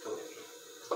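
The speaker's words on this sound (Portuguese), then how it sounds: "Vou jogar um pouquinho de água aqui." Water poured into a pan while cooking a meatball pasta sauce, a steady close pour that runs for about a second and ends with a brief splash.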